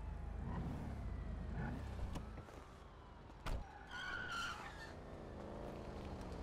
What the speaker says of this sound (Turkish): Bu da lastik yakıyor.